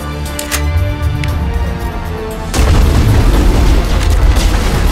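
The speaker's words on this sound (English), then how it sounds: "And yet somehow it survived that giant explosion." A giant explosion in the Mass Effect video game sets off a loud, deep rumble that surges suddenly halfway through into a dense, roaring blast and keeps thundering, with no speech over it.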